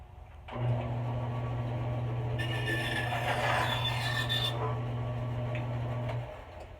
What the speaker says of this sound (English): I'll probably have to take a ½ inch off in the bandsaw